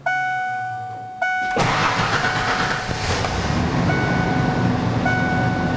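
A Ford car's engine is cranked and fires up after a tachometer repair: a steady electronic tone, a brief pause, then the engine catches and settles into a continuous close idle with faint tonal whines over it.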